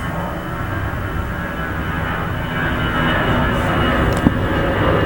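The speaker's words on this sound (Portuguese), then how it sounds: "Avião, sério?" An airplane flies overhead with a loud, steady engine roar that fills the whole stretch and swells slightly toward the end.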